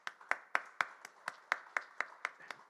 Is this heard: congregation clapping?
yes